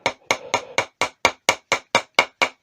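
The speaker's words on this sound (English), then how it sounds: "I made myself this little hammer a couple of years ago, just for tapping them in" A small homemade hammer taps wooden snowmen into place in a woodturning workshop: eleven crisp, evenly spaced knocks, close and clear, with short ringing decay between strikes.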